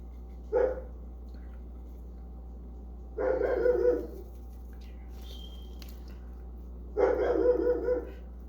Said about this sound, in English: Here's a dog in the background. I have a German Shepherd dog. She barks.